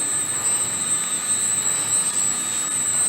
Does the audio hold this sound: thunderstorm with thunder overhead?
no